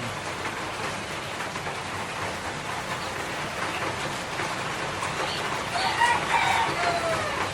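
Gamecocks in a yard crowing and clucking through steady heavy rain, several near crows standing out above the constant patter, louder toward the end.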